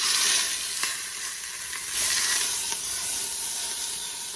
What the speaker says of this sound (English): We don't want to cook it, we just want to sear it on all sides.